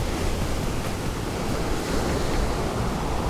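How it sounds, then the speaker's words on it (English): Big ocean waves crash on the shore in strong wind, a loud, continuous roar of surf and broadband wind buffeting the microphone, with no gaps and no voices. "So with these big waves crashing in"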